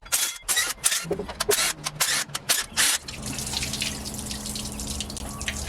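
Coolant pours and splashes steadily from a Blazer engine after a few seconds of clattering, clicking handling noises, a continuous close trickling stream that lasts to the end.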